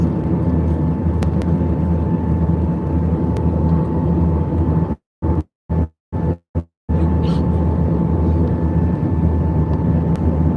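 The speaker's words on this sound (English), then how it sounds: "Aircraft just landed." A jet aircraft landing at Lagos Airport, heard from inside a plane on the taxiway as a loud, steady engine roar and rumble, broken by several short dropouts midway.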